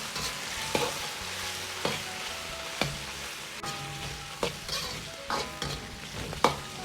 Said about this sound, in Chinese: 然后下入五花肉片翻炒均匀